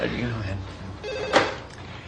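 A telephone rings in an auto department during a call about booking an oil change, its bell tones mixed with talking voices across the short clip.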